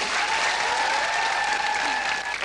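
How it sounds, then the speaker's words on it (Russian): Studio audience at a 2003 television talk show clapping in a dense, loud, continuous burst of applause that holds steady for a couple of seconds. "ваши аплодисменты мужественному Кириллу"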